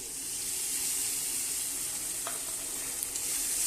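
Spices being stirred in a hot pan while cooking a lentil curry, a steady close sizzle and frying hiss running throughout with a couple of faint scrapes of the spoon.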